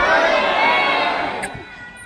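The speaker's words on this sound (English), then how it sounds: "On the count of 3, we need you to yell, jump, Pepper." A zoo audience yells together on a count of three, a loud burst of crowd shouting and cheering that fades out over about two seconds.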